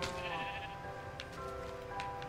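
Sheep in the Minecraft video game bleat repeatedly, with several stacked, wavering game bleats running continuously and fairly loud across the whole stretch.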